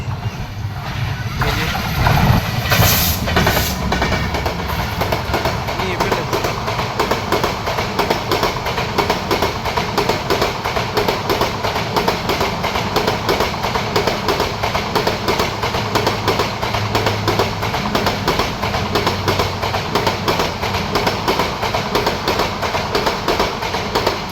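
A passenger express train rumbles past close by for a long stretch, wheels clattering in a steady rhythm over the tracks, loud and continuous.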